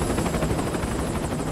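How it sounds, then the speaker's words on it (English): Support helicopter in Metal Gear Solid V, a loud, dense rotor roar with fast, steady blade chop filling the whole moment, no voices over it. "Support helicopter has arrived."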